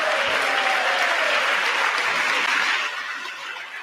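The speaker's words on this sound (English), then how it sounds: "Look how half the room is not applauding" Applause from an audience following a speech, a continuous burst of clapping from a large room that stays loud and steady before tapering off slightly near the end.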